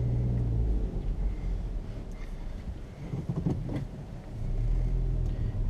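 A 2017 Honda Civic Hatchback Sport with a manual gearbox makes a low steady engine and road rumble from inside the cabin as it drives slowly through a neighborhood, with no one talking.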